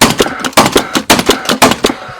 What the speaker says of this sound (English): First up is Paslode IM 350 Plus. It's a solid gun, it's been out years